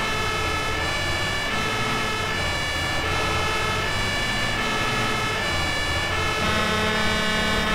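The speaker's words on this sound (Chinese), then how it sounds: "咱们上车，拉响警报。" A toy fire truck siren wails continuously at close range, a steady electronic tone with many bright harmonics that holds for the whole stretch, with no one talking.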